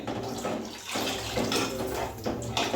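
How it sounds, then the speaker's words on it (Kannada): Water pours steadily into a pot for fish sambar, a continuous close splashing gush with slight surges in flow and no talk over it. "ಈಗ ಕಾವಷ್ಟು ನೀರು ಹಾಕ್ತಾಯಿದ್ದೀನಿ"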